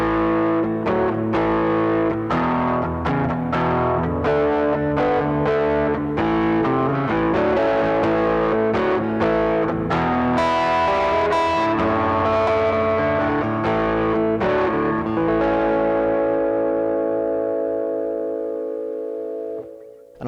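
Hybrid acoustic guitar played through a magnetic pickup with light overdrive, strummed chords and picked notes ringing with gritty sustain, loud and close, tailing off into a long fading chord.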